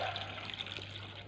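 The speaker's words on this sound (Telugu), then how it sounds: "సరిపోయేంత వాటర్ పోసుకొని" Water pours onto four tomatoes in a cooking pot, a short, soft, close trickle over a steady low hum.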